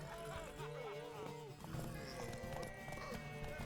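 Horse hooves galloping in The Witcher 3 during a race to a tower: a rapid clip-clop rhythm under an orchestral game score, with a horse whinny and brief voices mixed in.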